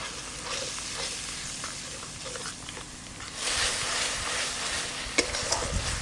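A spice masala with mustard and poppy-seed paste sizzles in a pan while being stirred with soft scraping strokes. The frying grows louder partway through, and a few sharp clicks come near the end.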